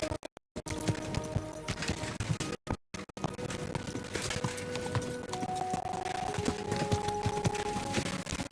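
Horse hooves clip-clop steadily in Kingdom Come: Deliverance II, a continuous rhythmic trot that is close and fairly loud, with brief dropouts early on and faint tonal game sounds underneath.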